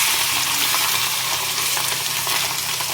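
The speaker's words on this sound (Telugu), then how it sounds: "ఇప్పుడు కట్ చేసి పెట్టుకున్న వీటిలన్నింటినీ దీంట్లో వేసుకొని ఇదంతా బాగా కలుపుకోవాలి." Chopped ingredients get stirred into fish eggs frying with green chilies in a pan, producing a loud, continuous close-up sizzle with light scraping and no voices.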